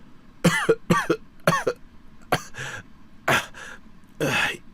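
A voice coughs several times in quick, harsh bursts, followed by a few strained gasps and breaths, close and fairly loud.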